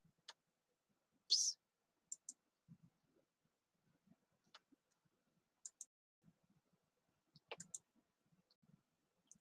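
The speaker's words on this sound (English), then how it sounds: "let me just type in here collective." Sparse, faint clicks from a computer keyboard as a name is entered, isolated taps scattered over a quiet stretch with one sharper click early and a small cluster near the end, no talking.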